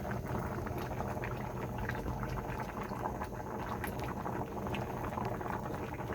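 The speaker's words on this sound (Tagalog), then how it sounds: "maprito na siya at isusunod ko naman ng tuyo" An egg frying in a pan before dried fish, giving a steady, dense bubbling crackle of hot oil that stays even and close throughout, with no talk.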